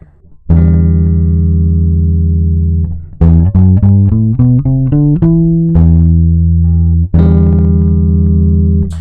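A bass guitar plays alone in the Aeolian mode: a sustained low note, then a quick stepwise scale up and back down, ending on long held notes.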